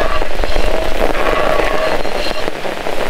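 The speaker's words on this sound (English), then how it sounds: "The rain won't help this dish very much" Rain falls at a campsite during outdoor cooking, a steady, dense close-up patter of drops that stays loud and even throughout with no voices.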